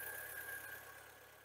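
A VW Vento's engine idles after its oil pressure switch has been replaced, giving a low, even, quiet rumble with a faint thin whine above it.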